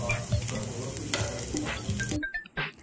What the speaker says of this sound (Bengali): আবারও খানিকটা তেল গরম করে নিয়েছি। এবার তাতে আলুগুলোকে দিয়ে আমি ভেজে নিচ্ছি।